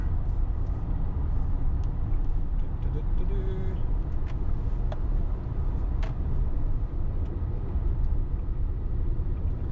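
A VW ID.4 electric car cruises at 90 km/h, a steady interior roar of road and tyre rumble holding evenly for the whole stretch with no clear breaks.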